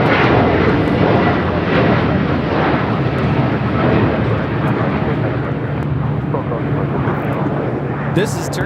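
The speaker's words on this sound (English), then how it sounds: "This is Turkish Airlines Flight 180 taking off to Istanbul on a 787-9 Dreamliner." A Turkish Airlines Boeing 787-9 Dreamliner takes off from LAX, its engines giving a loud, steady, broadband roar that holds close and constant throughout, with a low tonal hum underneath.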